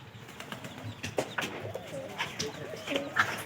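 Pigeons in a loft where a new pair is being matched give soft, low cooing mixed with short bursts of wing flapping and rustling. The sounds are close and fairly quiet and come in irregular clusters throughout.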